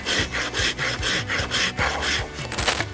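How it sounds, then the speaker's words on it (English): A rasp is filed across a carved wooden handle in steady, repeated strokes, giving close, rhythmic rough scraping about five times in a few seconds. "I'm just going to take the rasp"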